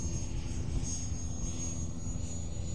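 An FMS 80mm Integral EDF radio-controlled jet flies overhead with a steady, continuous high-pitched ducted-fan whine over broadband rushing noise, holding constant loudness throughout with no talk.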